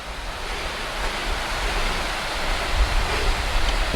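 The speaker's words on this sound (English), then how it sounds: "This creek and all these little waterfalls all the way up this climb." Creek tumbling over a series of small waterfalls on a climbing forest trail, a steady broadband rush of running water, close and continuous with no talking.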